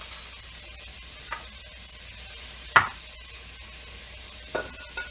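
Vegetables sizzle steadily in a pan at home while a spoon stirs them, with a soft continuous frying hiss broken by a few sharp scrapes and clinks of the utensil against the pan.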